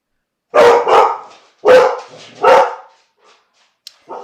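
A dog barks loudly several times in quick, uneven bursts, close by, followed by a brief soft yip.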